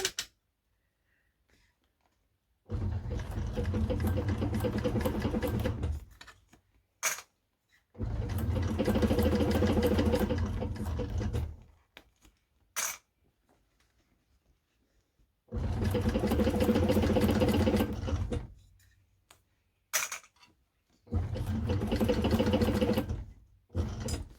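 A Cowboy CB6900 sewing machine stitches through thick layers of a bag in four loud, rapid, chugging runs, separated by pauses with a few isolated mechanical clicks.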